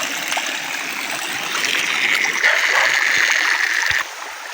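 River water gushes steadily out of a hose in a rural outdoor setting, a loud, continuous splashing rush that drops to a quieter trickle near the end.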